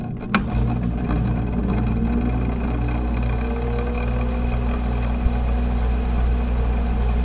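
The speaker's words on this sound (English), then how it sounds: "These aircon units are a pain too." Bedroom air conditioning unit in Manila running with a steady, droning mechanical hum and a low pulsing tone, close and constant, with a couple of faint clicks and no voices.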